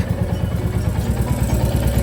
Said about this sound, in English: The engine heat is less, the sound is not that prominent of the engine clatter, it is reduced.